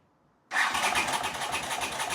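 A motorcycle engine with freshly cleaned spark plugs and the choke on catches abruptly and runs on at a steady, loud idle, close by and with no voices.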